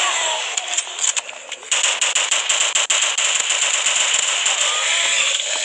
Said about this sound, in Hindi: मैं आधी गोलियां उतार रहा हूँ उनके अंदर